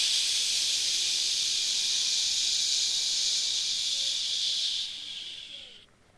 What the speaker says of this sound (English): you're gonna exhale on a sh sound, an SH